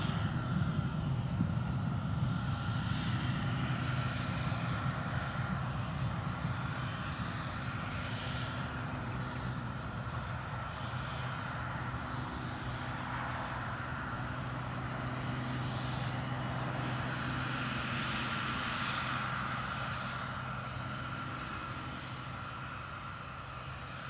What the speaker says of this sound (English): I think it's the KLM Dreamliner